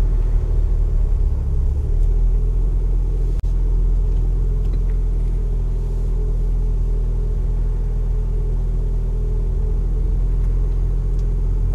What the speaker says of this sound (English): Raw cut on the traffic jam in Santa Cruz